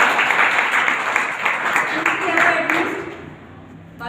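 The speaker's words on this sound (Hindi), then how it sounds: "अच्छी ताली बजाओ भाई इस लड़की।" A group claps for a girl during a self-defence class, a brief burst of scattered clapping that trails off within a few seconds while a voice speaks over it.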